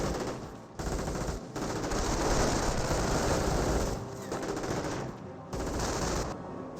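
Gunfire in a Company of Heroes battle, with riflemen engaging an STG squad: dense bursts of machine-gun and rifle fire in rapid clusters, broken by short pauses, loud and continuous across the scene.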